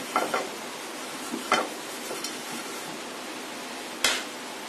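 Chicken cheese rolls frying in oil, a steady close sizzle with a few light clicks and taps of a utensil against the pan.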